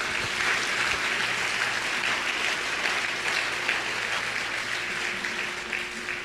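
A church congregation applauds for Jesus, sustained dense clapping that fills the room evenly at fairly loud level, with a low hum running beneath and little speech.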